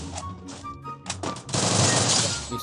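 Gunfire in a mobile battle royale video game, a few sharp shots followed by a loud, dense burst of rapid automatic fire that fills the second half.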